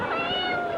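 Battery-operated toy cat giving a single short electronic meow, close and clear with a slightly tonal, wavering pitch, heard alone.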